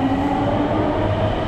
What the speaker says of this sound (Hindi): और ये मेट्रो निकली बू।